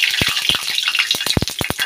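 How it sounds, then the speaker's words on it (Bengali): Cauliflower frying in a pan with potatoes, cumin, green chilli, tomato and turmeric already in, giving a close, loud sizzle broken by sharp clattering stirs and scrapes. "কপিটা এখন ভেজে নেব"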